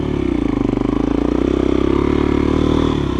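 A GEON X-Road 250 PRO enduro motorcycle engine runs steadily close by, a throaty, pulsing exhaust note holding an even idle-to-low rev with a rough clatter and no voices.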